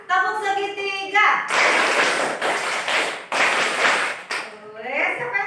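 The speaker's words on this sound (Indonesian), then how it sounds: "sekarang sekali lagi tepuk segitiga ya" Children playing the tepuk segitiga clapping game in a classroom, several bursts of brisk group clapping alternating with a teacher's voice and children's chanting.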